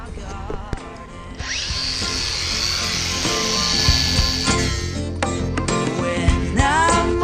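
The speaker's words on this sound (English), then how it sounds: "I'm gonna go ahead and grind this off, this rust, make sure it's a nice clean connection" Angle grinder grinding rust off metal to get a clean connection before welding, a steady loud broadband whine running for several seconds with rough scraping texture and shifting pitch as the disc bites, with no talking.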